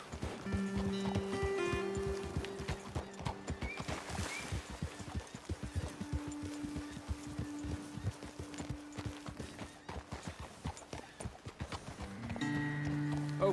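In Red Dead Redemption 2, horses gallop along with rapid, rhythmic hoof clip-clops, faint and steady for several seconds, mixed with occasional tonal game music and ambient noise.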